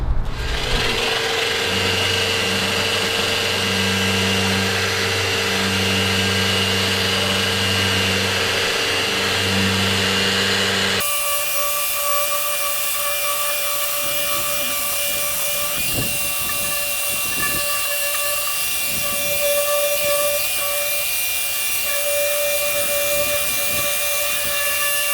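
Power sander working over a door with 150 grit sandpaper, a steady loud whir with continuous abrasive rubbing, its pitch and tone shifting partway through as the sander moves, running without pause throughout.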